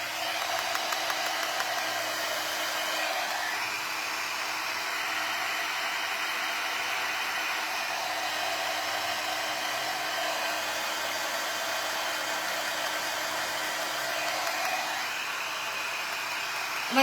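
A hair dryer blows continuously on freshly painted furniture legs, a steady close whooshing roar that shifts slightly in tone as it is moved, with no talk.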